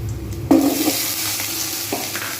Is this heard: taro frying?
yes